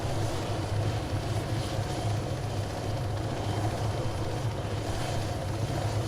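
A helicopter in the Arma 3 video game produces a steady, loud rotor and turbine drone with a low, pulsing throb that continues unbroken throughout.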